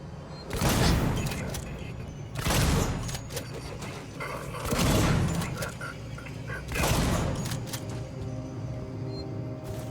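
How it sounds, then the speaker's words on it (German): Revolver gunshots in the Alien: Isolation video game, four heavy booming blasts spaced about two seconds apart, each with a long rumbling decay over a steady low background, no talking. "Hey, wie viele Revolver-Schüsse brauchen die?"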